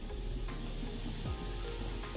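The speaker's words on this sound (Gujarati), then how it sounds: "એક એક કરી અને બધા કારેલાને આ વઘારમાં એડ કરી દઈશું." Stuffed bitter gourds are added one by one to hot tempering oil with garlic in a Kathiawadi-style dish. A steady, fairly faint sizzle of frying runs throughout, with a few soft clicks, and no talking.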